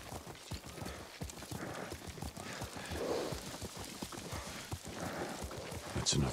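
Horse hooves clip-clop at a steady riding pace in Ghost of Tsushima, the rhythmic beats close and moderately loud, with voices talking over them and a brief snort near the end.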